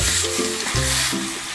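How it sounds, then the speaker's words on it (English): Minced beef sizzling and frying in a hot pan while being stirred, a steady close crackle that briefly surges as the meat is moved about. "Okay, we're gonna add the beef now, the minced beef."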